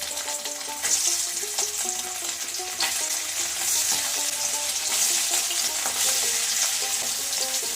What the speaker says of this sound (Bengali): গরম তেলের মধ্যে আমি পনিরগুলো একটা একটা করে দিয়ে দেবো